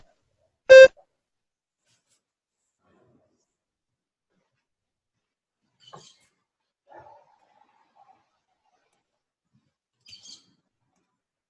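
One short, sharp electronic test beep sounds at the start of a spoken-response exam recording, followed by long near-silence with a few faint small noises.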